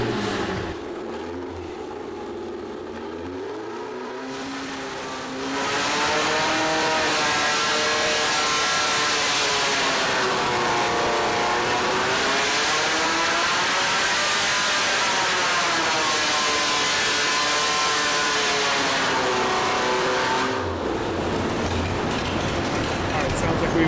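An EMPI performance engine on a dyno pull revs up into a loud sustained roar with a wavering pitch, holds for many seconds and then drops back off, with background noise around it.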